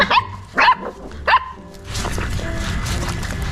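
Three sharp dog barks ring out close by in the first second and a half as dogs are fed in Varanasi, India, followed by a steady background noise and faint bustle.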